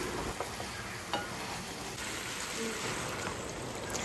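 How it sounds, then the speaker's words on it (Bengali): Thin-sliced potatoes coated in turmeric and salt fry in a pan with a continuous, soft sizzling hiss at moderate distance. "আলু ভাজাটা বানাচ্ছি"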